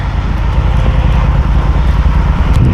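A snow-plowing tractor passes close by on a cold winter day, a loud, steady low engine rumble that fills the whole moment without letup.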